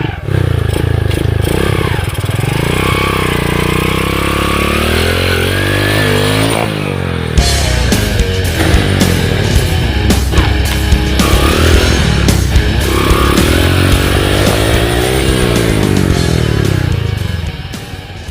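Motorcycle with a soft front tire grinding through a rough river crossing, the engine loud and close, revving and straining with clattering, scraping bursts throughout.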